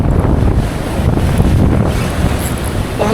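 Rough open sea at a fishing spot, loud constant wind buffeting the microphone over rolling waves and boat-side water wash, a dense low roar with no pauses.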